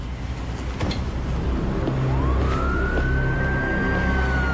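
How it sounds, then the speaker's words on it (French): Police sirens wailing close by in a French urban setting, loud and continuous with a rising wail over a rumbling vehicle and street noise background, no speech. "les sirènes sont toutes proches"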